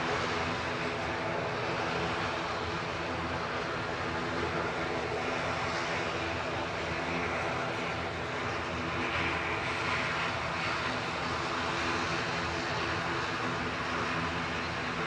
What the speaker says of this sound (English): GCMN ATR 72600 lined up and ready to go